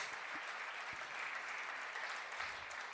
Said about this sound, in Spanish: Fuertes aplausos al Señor, mi hermano.